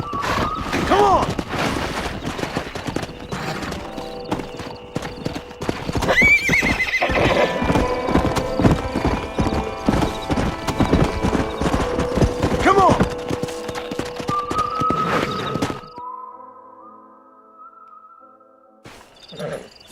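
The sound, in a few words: horses galloping in video game Red Dead Redemption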